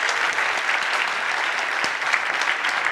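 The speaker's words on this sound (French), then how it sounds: "on l'applaudit très très fort" Loud, dense applause from a conference audience after a closing talk by a cloud company's founder and CEO, a continuous wash of many hands clapping without pause.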